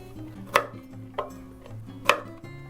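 A knife thinly slicing trimmed garlic cloves on a cutting board, giving three sharp, close taps spaced unevenly over a low background hum, with no talking.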